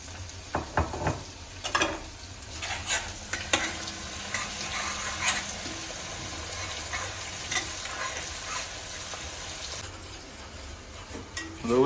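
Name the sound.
ground whole spices frying in oil with onion, bay leaf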